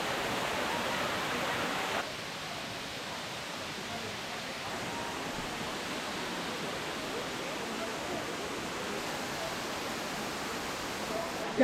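A crowded waterfall in Ubud, Bali roars as a constant broadband rush of falling water, moderately loud and steady from start to finish.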